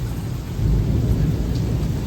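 Extremely heavy freezing rain pours down during a severe storm, a dense continuous hiss and low rumble swelling slightly midway, with no voices.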